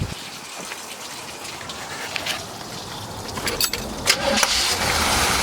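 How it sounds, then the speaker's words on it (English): A 1979 Chevy G20 custom van engine cranking and catching, a rough mechanical churn under a hissing wash of noise that rises and sputters toward the end. "I mean, she fires right up."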